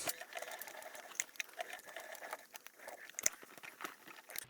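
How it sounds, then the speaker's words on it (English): A sewing machine topstitches around the perimeter of an insulated tote, a continuous close mechanical whir with rapid ticking stitches and occasional fabric crinkles, heard alone without talk. "I'm just going to top stitch all around the whole perimeter of this"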